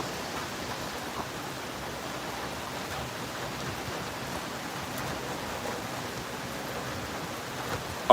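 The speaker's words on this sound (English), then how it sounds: "the rain might be dropping a little bit too loud" Rain falling outdoors during a live stream, a steady, even hiss of dense drops that holds at a moderate level throughout with no talking.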